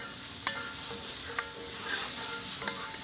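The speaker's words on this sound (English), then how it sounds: "Add a little bit of butter to our cast iron pan." Butter sizzles steadily as it melts in a hot cast iron pan, a continuous close crackling hiss broken by a few sharp spatters, with no talking.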